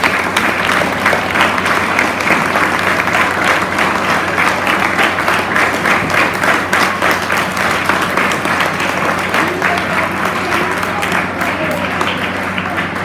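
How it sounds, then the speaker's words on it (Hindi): Students at a Kendriya Vidyalaya Teachers Day celebration applaud loudly and steadily, a dense, continuous wall of clapping from a large hall crowd that holds for the whole stretch, with faint voices mixed beneath. "एक बार पुनः तालियां विद्यार्थियों।"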